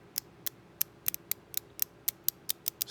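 A ratcheting screwdriver gives a series of crisp, sharp clicks at a fairly steady pace, close up, with no talking.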